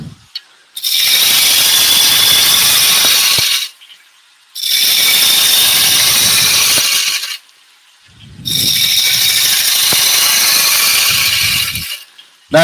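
A spindle roughing gouge cuts a spinning wood workpiece on a lathe in three long, loud bursts of harsh, steady shearing noise, separated by short near-silent gaps, close up.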